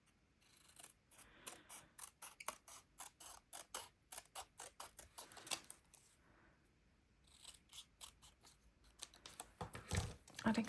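Cardstock being trimmed for a handmade Stampin' Up! Z fold card, a rapid series of crisp, close snipping and slicing strokes in two bursts, with a pause in between.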